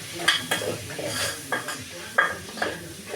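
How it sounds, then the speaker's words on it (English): Pilau with dhania stirred in a pot: a string of spoon scrapes and clanks against the metal, roughly every half second, over a low background sizzle. "I'm going to stir it thoroughly so that everything mixes very well."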